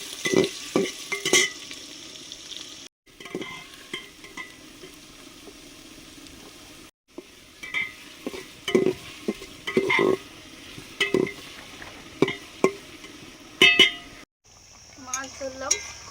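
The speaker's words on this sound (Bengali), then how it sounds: "এবার দিচ্ছি পেঁয়াজ কুচি," Chopped onions frying with whole garam masala and bay leaves in a pot, heard as a close sizzle with bursts of stirring and spoon scrapes, broken by short silent gaps and with occasional voice nearby.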